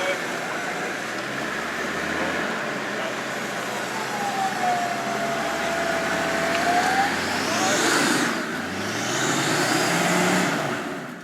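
Land Rover Discovery 2 climbing a steep coastal track, a steady low engine rumble with road and cabin noise throughout, a rising whine in the middle and louder surges near the end, while people talk in the background.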